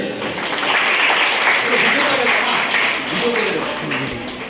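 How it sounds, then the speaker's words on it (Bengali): An audience applauding at a student talent-search event, a dense and fairly loud wash of clapping that carries on for several seconds. "সবাই আমরা একটু করতালি দেবে।"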